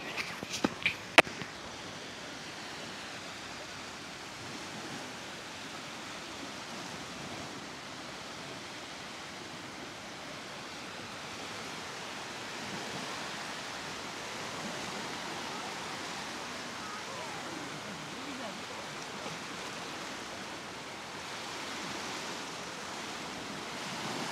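Sea waves wash onto a beach at sunset in Samsun, a soft continuous surf hiss that stays steady and fairly faint, with a few brief knocks at the start.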